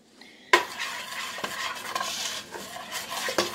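A spoon stirs a peanut butter mixture in a pot over nearly high heat, with a sharp clank as stirring begins, then steady scraping and soft sizzling, plus occasional louder knocks against the pot, close and with no talking.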